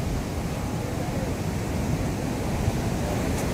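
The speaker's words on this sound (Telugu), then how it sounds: "ఇక్కడ వరకు వస్తున్నాయి వాటర్" Sea waves wash up on Varkala beach in Kerala in the early morning, a steady roar of surf with wind across the microphone throughout.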